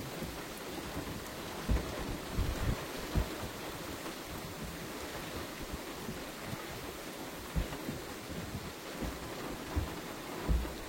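Steady heavy rain during a thunderstorm in Lyon, with occasional low rumbles of thunder rolling in the distance, no voices.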